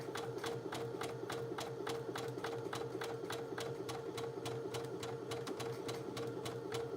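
A sewing machine stitching fabric for a sleeve facing runs at a steady, quick pace, its needle ticking evenly over a constant motor hum, close but fairly quiet with no talk.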